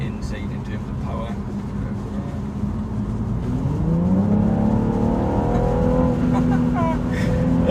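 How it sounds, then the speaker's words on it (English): A BMW M135i accelerates hard on a rainy road, its engine and exhaust rising steadily in pitch from a low drone to a strong, sustained roar, heard from inside the car. "the noise that comes from that exhaust is just like exhilarating"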